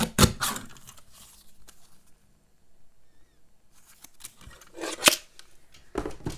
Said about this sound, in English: I could use a paper cutter for this. My handy dandy little paper cutter.